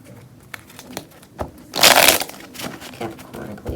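A deck of tarot cards being shuffled at close range: a burst of riffling, crackling card noise in the middle, surrounded by scattered soft taps and card handling.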